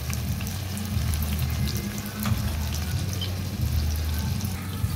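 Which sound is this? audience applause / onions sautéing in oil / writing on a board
onions sautéing in oil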